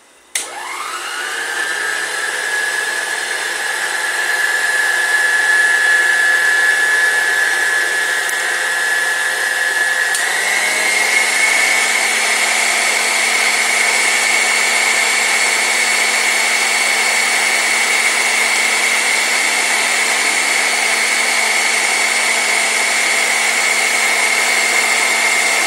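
Electric mixer whipping canned cream into chantilly, a loud continuous motor whine starting abruptly and shifting up in pitch midway as the speed changes, running steadily for about 25 seconds with no voices.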